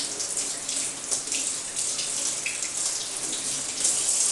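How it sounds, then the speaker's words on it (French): Running tap water splashes steadily over fingers being rinsed in a sink, a continuous close hiss of falling water with no talk. "Je me rince les doigts."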